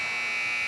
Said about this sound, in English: a three right at the buzzer from Grant Harmon.